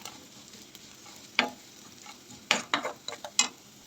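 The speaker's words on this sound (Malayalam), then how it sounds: "നന്നായി ഇളക്കി കൊടുക്കാം" Horse gram thoran being sautéed in a pan: a faint low sizzle underneath a handful of sharp scraping and clattering strokes of a spatula, clustered toward the end, close by.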